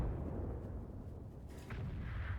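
A tank's main gun fires in World of Tanks, a deep muffled boom with a low rumbling tail that stands alone and fairly quiet, followed by a second, smaller thump near the end.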